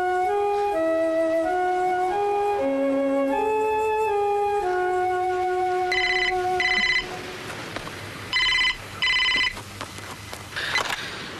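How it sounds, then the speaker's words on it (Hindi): A telephone rings in a Hindi film scene, first under a falling melodic tune, then in several sharp bursts of bright electronic trilling, loud and close. "राहुल का फोन है तुम्हारे लिए"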